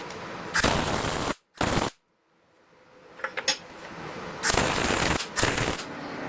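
A porous, bubbly weld on a homemade body hammer being ground out with an angle grinder, coming in loud, harsh bursts of about a second each that stop and start, with quieter rattling in between.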